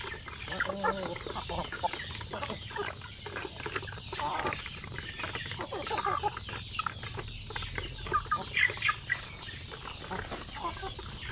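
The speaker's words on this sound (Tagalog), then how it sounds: "yung ibang mga siso dito na pinalaki ko sila na per kilo ay pinakawalan ko na sila dito." Young chickens raised to be sold by the kilo cluck and chirp together in a farm yard, a busy flock close by, with someone talking over the birds.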